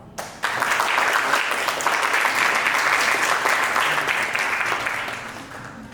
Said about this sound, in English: So please, let's give him a round of applause.